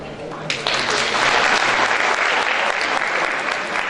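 Audience in a university auditorium applauding at a peace-policy event, a dense sustained burst of clapping that swells after a brief quieter start and holds steady and loud.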